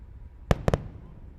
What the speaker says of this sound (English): the sound of the sonic booms just making their way to us here at the press site